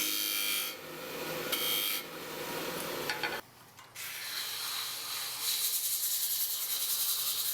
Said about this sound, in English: with 100 grit you can sand it down really fast